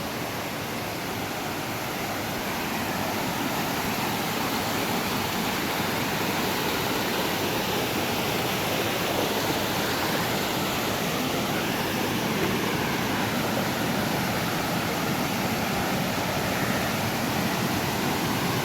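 Khoiyachora waterfall roars in a loud, steady, broadband rush of falling water that fills the whole stretch without a break, close and unvaried, with no voices over it.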